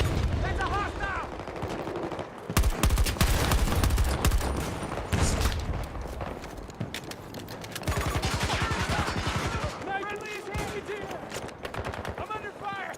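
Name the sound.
gunfire in a video game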